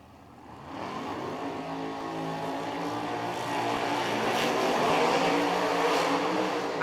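A 2002 Camaro drag racing car with a 544-cubic-inch ProCharger-boosted Pro Line engine, its loud engine roar building steadily as the car stages and launches, with no talk over it.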